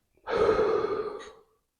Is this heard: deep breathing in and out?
yes